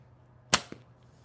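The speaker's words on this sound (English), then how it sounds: "Got to get this slingshot kind of worked in. I haven't shot this thing in ages." A slingshot fired at a catch backdrop gives one sharp snap followed by a softer thud a moment later, close and isolated against a quiet background.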